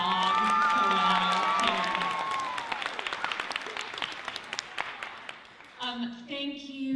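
An audience at a theater's Shakespeare monologue and scene contest bursts into loud applause with cheering and whoops, fading after a few seconds as a voice begins speaking.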